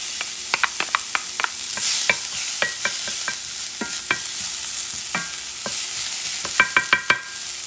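Onions sizzle steadily in a pan with steak drippings, garlic and meat chunks from cooking flank steak, punctuated by repeated sharp scraping and stirring clicks close up, with no talking.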